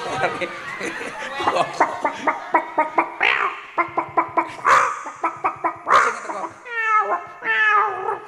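A person mimics a cat meowing in Javanese comic banter, with repeated short voiced calls in quick rhythm and longer wavering meows toward the end, close and clear.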